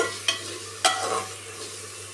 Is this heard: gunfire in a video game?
no